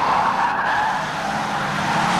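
A race car spins out at a short oval track, tires skidding and squealing in a sustained screech over engine roar, loud and close.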